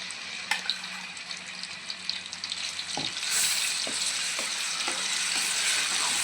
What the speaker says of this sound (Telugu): ఆయిల్ హీట్ అయింది ఇప్పుడు అల్లం వెల్లుల్లి ఆనియన్ పేస్ట్ వేస్తున్నాను